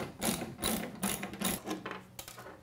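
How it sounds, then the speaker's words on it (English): A ratchet with a 7/16 inch socket works loose the hood latch bolts on a classic Jeep, giving several quick bursts of close, crisp clicking in an irregular rhythm. "Now I'm going to use a 7/16 inch socket to remove these hood latches"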